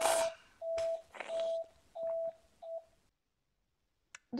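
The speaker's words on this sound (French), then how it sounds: "il y a le répondeur qui se met en route" Phone tones from an old advertisement as an answering machine starts, with a series of five steady electronic beeps in a quick uneven rhythm, followed by silence and a couple of faint clicks.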